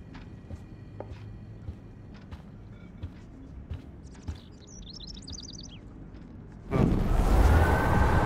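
A bird trapped indoors in Life Is Strange lets out a short, high chirping trill midway through quiet surroundings with soft scattered knocks, before a sudden loud whooshing noise takes over at the end.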